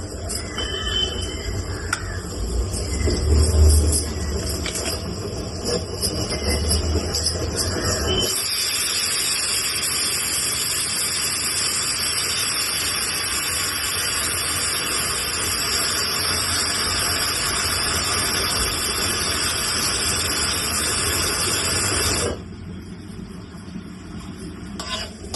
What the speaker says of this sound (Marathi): दोन चमचे तेल घेतलंय मी. आता त्यात कांदा परतून घ्यायचा आपल्याला.